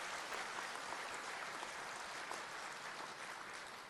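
An audience at a political event in the Gwalior-Chambal region claps, a steady, dense patter of many hands at a moderate distance, continuing without a break and fading slightly at the end.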